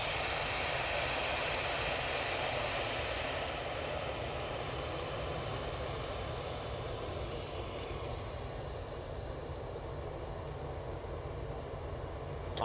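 An EasyJet airliner passing at Manchester Airport sends out a broad, steady jet rumble, strongest at first and slowly easing as it moves away, with no voices.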